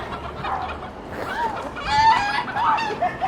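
Chickens cackling and clucking in a New Orleans cemetery, a busy overlapping chorus of short squawks that swells louder midway, fairly close with no talk.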